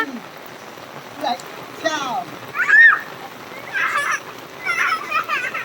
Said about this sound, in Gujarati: હવે વરસાદે બંધ થઈ જાય ઘડીક વારમાં